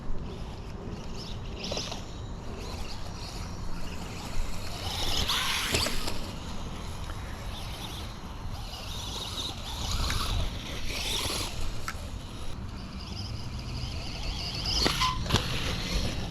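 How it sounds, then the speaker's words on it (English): A Losi ProMoto MX RC motorcycle riding on mixed surfaces, its small electric motor whining and repeatedly cutting throttle, heard from a distance over steady wind-like background noise for about sixteen seconds. "You can hear it cut throttle."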